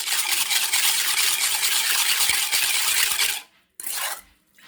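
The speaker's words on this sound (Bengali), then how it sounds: "দুধ দেওয়ার পর এটা আবার নাড়িয়ে নিতে হবে" Spoon stirring cake batter with milk in a bowl, giving a steady, loud clatter and scrape that stops abruptly near the end, followed by one brief final scrape.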